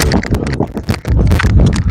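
A large white-grey horse walks with close, loud hoof clip-clops in an irregular beat of several strikes, with a short lull in the middle before the steps resume.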